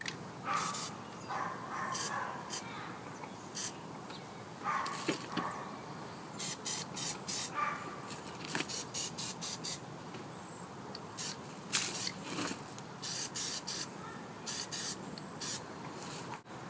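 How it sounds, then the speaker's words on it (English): A spray can applies Plasti Dip rubber coating to small parts in several light coats, giving repeated short hissing bursts of varying length, some brief and some sustained, fairly close with pauses between. "It's a lot better to put on several lighter coats."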